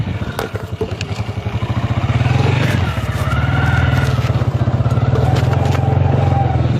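A motorcycle ridden along a canal road, its engine thrumming steadily and close with rattling and scraping noise throughout, loudness swelling midway as it picks up speed.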